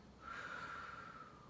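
A single deep yoga breath drawn in through the nose, a soft, close airy rush with a faint whistling tone that swells and then fades, with no talking.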